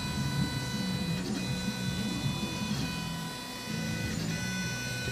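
A 3D printer running under remote control, giving off steady whining stepper-motor tones with brief shifts in pitch every second or so. The sound is close and continuous, with no talk.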